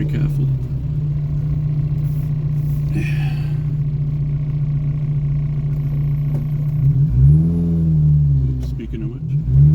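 A small car drives along a road during a road test, its engine holding a steady low hum and then rising in pitch toward the end.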